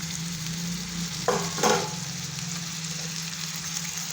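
Pumpkin pieces fry in hot oil for a spicy Maharashtrian pumpkin stir-fry, giving a steady close sizzle with a couple of louder bursts as pieces are stirred or turned, and no voices.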